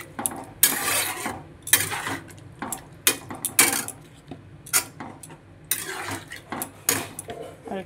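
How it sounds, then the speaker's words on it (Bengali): Metal spoon stirring prawns and potatoes in a cooking pot, with repeated sharp scraping clanks against the pot in an irregular rhythm, loud and close, no talking. "একটু নেড়ে দেবো।"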